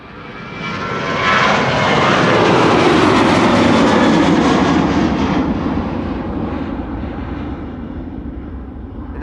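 A Ryanair jet airliner departs Amsterdam Schiphol, its engine roar swelling quickly to a loud, broad rumble overhead and then slowly fading into the distance, with no voices.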